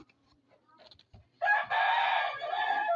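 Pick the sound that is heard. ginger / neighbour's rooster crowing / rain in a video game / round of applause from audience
neighbour's rooster crowing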